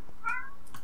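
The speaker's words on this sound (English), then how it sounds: "Kitty says hi. Kitty wants to play too." A pet cat meows once, close and clear, a short bright call in an otherwise quiet indoor room with a little faint background noise.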